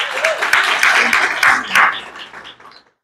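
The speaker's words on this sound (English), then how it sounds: "can we give our guest speaker a round of applause?" An audience at a community education event claps for a guest speaker, a warm burst of many hands that holds for about two seconds, then thins out and fades to silence.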